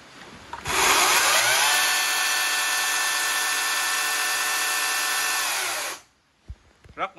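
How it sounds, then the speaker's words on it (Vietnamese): A 56V battery chainsaw with a 45 cm bar runs steadily at high speed for about five seconds, a loud, even motor whine with a strong start and a sharp cutoff, followed by a few faint knocks. "Cưa pin."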